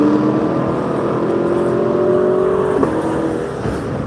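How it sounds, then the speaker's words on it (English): Noisy cars pass close by on a road, a loud continuous engine roar with a rising and falling whine as vehicles go past. "letting the noisy cars by"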